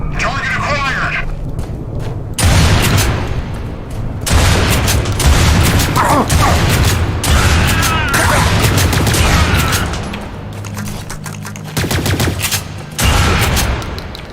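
Shotgun fire in Lost Planet 3, heavy repeated blasts and booms in a loud, dense barrage across the clip, with brief lulls between volleys and a voice talking over the gunfire.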